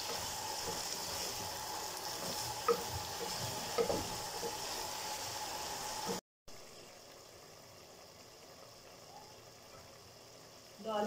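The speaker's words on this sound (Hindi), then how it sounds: "अच्छे से भूनेंगे।" Bottle gourd and chana dal stir-fry in a pan with a quiet, even sizzle and a few light stirring clicks, cut by a brief gap before a lower hiss carries on.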